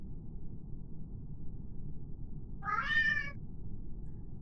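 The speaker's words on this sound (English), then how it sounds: "Sorry if you can hear my cat." A pet cat gives a single clear meow, close by, rising over a steady low hum of room noise.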